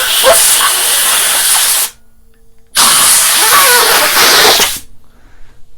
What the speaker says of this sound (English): Lift it up a little bit, put the air under there, and blow.